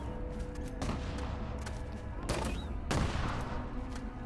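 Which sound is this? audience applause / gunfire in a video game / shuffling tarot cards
gunfire in a video game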